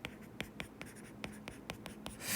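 A math formula is handwritten, with steady scratchy pen or marker strokes in a regular rhythm, close and faint, and a brief rustle at the end.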